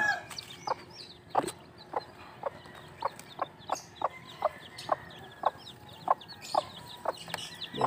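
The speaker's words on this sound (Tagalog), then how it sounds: "mukhang mabait naman yung chicken natin" A chicken clucks close by in a rhythmic series of about a dozen short, sharp calls spaced roughly half a second apart, over quiet background noise.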